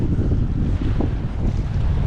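Gusty wind blowing through a river canyon during a fly-fishing outing, a loud, steady roar of wind buffeting the microphone with low rumbling throughout.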